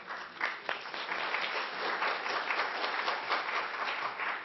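Audience applause at a history talk, a steady, moderately distant patter of many hands clapping that holds evenly throughout.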